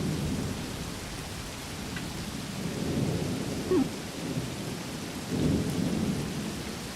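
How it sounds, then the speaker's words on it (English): Steady rain hisses and patters in the video game Combat Mission: Beyond Overlord, with low thunder rumbling beneath and swelling twice, the storm loud and continuous throughout. "Now it's raining, so it's hard to hear what is happening."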